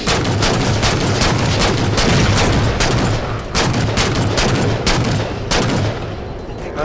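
Sustained heavy gunfire from the Halo 4 video game, loud rapid overlapping shots and blasts rolling on without pause, with a slight easing toward the end.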